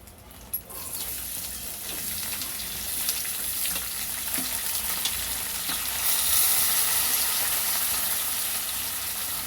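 Onions and green chillies frying with dried prawns in a pan, a loud continuous sizzle with stirring scrapes after a sharp clatter as they go in, the hiss swelling toward the end.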